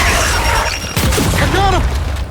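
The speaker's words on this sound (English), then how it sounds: "Throwing frag!" A frag grenade explodes in the video game Gears 5, a loud booming burst that rolls out under battle noise, with game voices speaking over it.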